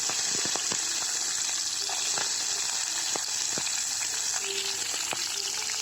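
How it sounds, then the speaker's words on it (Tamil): Coriander, garlic, chilli and onion sauté in a pan for thuthuvalai chutney, giving a loud, steady sizzle with occasional stirring clicks throughout. "வர கொத்தமல்லி, பூண்டு, மிளகாய், வெங்காயம் இது எல்லாத்தையும் ஆட் பண்ணி நல்லா வதக்கிக்கலாம்."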